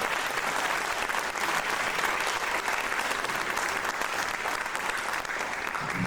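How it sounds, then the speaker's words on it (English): Sustained applause from an audience at a high school concert, a dense, even wash of many hands clapping at steady volume throughout, with no talking over it. "give that a round of applause"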